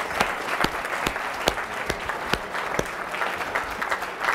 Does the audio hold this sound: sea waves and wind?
no